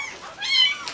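A single cat meows once, fairly close and clear, with a soft rising-then-falling cry against a quiet background.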